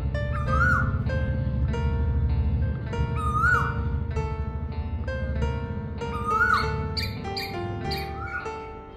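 A male Asian koel calls for its mate during spring in Kolkata, repeating a rising whistled note several times in steady succession over a constant low background rumble.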